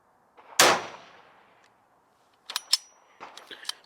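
A gun firing an 8mm blank round outdoors gives one sharp loud crack with a ringing decay, followed by fainter metallic clicks and clatter of the action a couple of seconds later.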